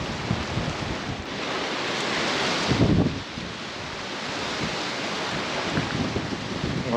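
Wind blows hard across the lagoons of the Ebro delta, a loud, blustery rush buffeting the microphone and swelling in gusts, mixed with a low watery wash.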